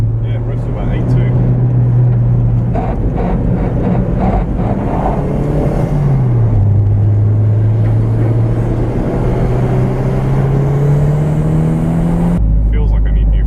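A turbocharged 2.0-litre 3S-GTE engine in a Toyota MR2 SW20 GTS revs hard inside the car, its steady drone dipping and then climbing again, with people talking over the engine noise.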